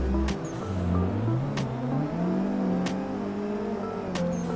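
Engine whine of cars in a sim racing drift game, rising and falling through gears as a car drives past, with sharp rhythmic clicks or shift blips cutting in about every 1.3 seconds.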